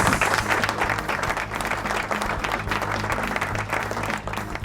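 Studio applause sound effect on a Brazilian podcast, bright dense clapping laid over a steady low musical hum, continuous for several seconds.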